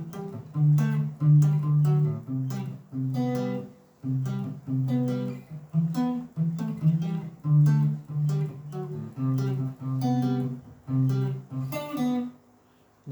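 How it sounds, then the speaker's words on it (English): Electric guitar riff from a song, a looping line of plucked notes and chords with a low, steady rhythm and a short twist at the end, played alone with no talking. "Let's sit and learn the notes, and then we can learn to do this cool riff."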